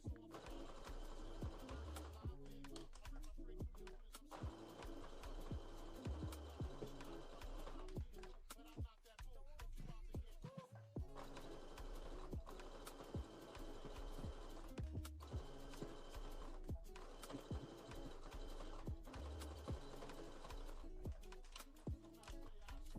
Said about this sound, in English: I'm just continuing to sew down the side seam of the bodice at a 1/2 inch seam allowance